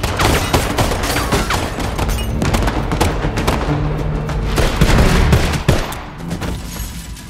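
Rapid bursts of gunfire from a film action scene, dense overlapping shots and booming impacts layered with a music score, loud and close, ending in a heavy thud before the sound drops away.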